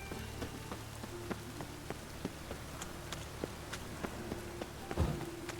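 Steady rain falling in The Witcher 3, a dense even hiss with scattered distinct droplet ticks and a few soft footstep-like thuds, a low hum underneath and no talk.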